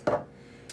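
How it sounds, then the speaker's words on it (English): Ice dropped into a cup in a kitchen, one sharp clunk followed by a short rattle, then a fainter second knock a moment later, close and with no voices. "I'm going to fill it with some ice"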